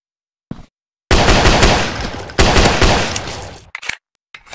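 Gunfire in a zombie survival shooter game on Android: a loud, close single shot, then two long sustained bursts of automatic fire and a few short trailing shots.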